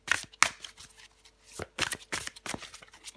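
Tarot cards handled and drawn from the deck: a series of quick, crisp papery flicks and shuffles, close and fairly quiet, with short pauses between them.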